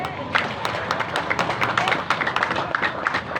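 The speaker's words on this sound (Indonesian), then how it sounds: "mohon beri tepuk tangan yang meriah sekali" An audience at a public debate for regent candidates in Pesisir Barat claps loudly, with busy, uneven hand claps mixed with crowd noise and some voices throughout.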